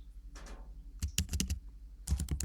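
A command is typed into a computer terminal on a keyboard: a short burst of close, clattering key clicks in quick uneven rhythm after a brief soft sound.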